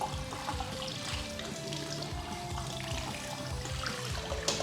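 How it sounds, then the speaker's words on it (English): Tap water runs in a sink to rinse off a dusty CPU cooler from a Lenovo ThinkCentre, a constant close splashing and gurgling stream with uneven spatters throughout. "let's go rinse this off under the sink."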